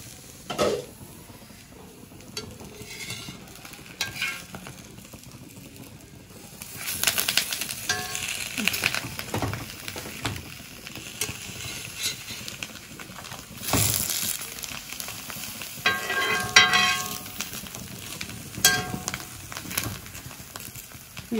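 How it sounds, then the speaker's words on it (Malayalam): Sardines coated in a ground green paste fry in a covered pan, giving a soft, low sizzle that swells in louder crackling bursts now and then, with faint background noises and no speech. "ഇനി നമുക്ക് മീൻ പൊരിച്ചെടുക്കാം."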